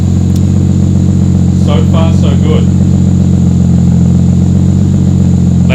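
A Toyota Supra JZA80 with a 2JZ-GTE engine, checked for a misfire, runs at a steady loud idle with an even drone and no obvious stumbles, while someone speaks briefly over it near the engine.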